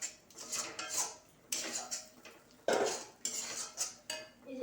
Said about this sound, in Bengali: তো আমি যেটা ভালো করে কষতে থাকবো।